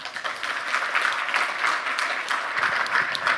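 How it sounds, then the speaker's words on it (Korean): Audience applause at a hydropower industry day ceremony in Korea, a continuous, full crowd clapping sound that stays loud and even from start to finish without speech. "박수 한번 주시죠."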